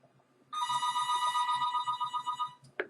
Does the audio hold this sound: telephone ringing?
yes